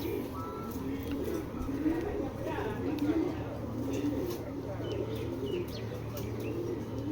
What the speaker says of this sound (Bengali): লাখ টাকার কবুতর ভাই এটা